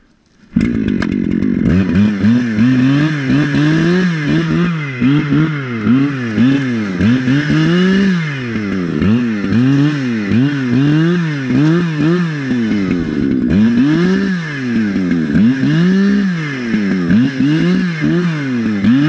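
An Echo CS-7310P chainsaw fitted with half-wrap handlebars runs outdoors in the woods, starting up and then revving repeatedly in rising and falling surges, loud and close, with no talking.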